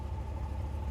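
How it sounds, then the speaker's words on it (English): A Camaro fitted with a Hennessy cold air intake idles roughly at an auction walk-through, giving a brief, steady low engine rumble close by with no talking over it. "it does not run well at all"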